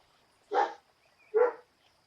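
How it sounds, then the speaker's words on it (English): A dog barks indoors, two distinct barks spaced under a second apart, moderately close and clear against an otherwise quiet background. "I can never have a video without a dog barking"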